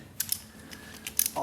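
A ratchet wrench clicking as it removes bolts from a VW Type 4 engine during a teardown, a few quick close-up ratcheting bursts, without talk.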